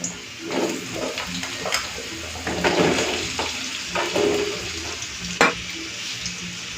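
Potatoes fry in hot oil with black cumin, crackling and sizzling close by while a spatula stirs and knocks against the pan in irregular strokes.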